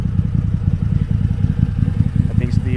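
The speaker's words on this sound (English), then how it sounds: "She's idling really nicely" A Ford Maverick engine idles steadily, a low rumbling pulse that runs evenly throughout, with a faint light clatter near the end.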